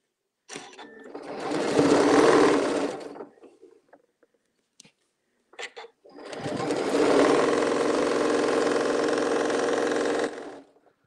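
A sewing machine runs in two long, steady bursts while stitching a quilted 4-patch table mat, loud and close, with a short quiet gap between the runs.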